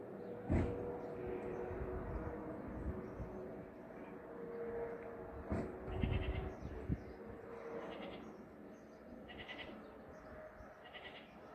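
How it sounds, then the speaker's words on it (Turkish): Goats bleat a few times at a distance over a steady outdoor background, with scattered higher calls between the louder bleats. "Keçilerin sesi geliyordur."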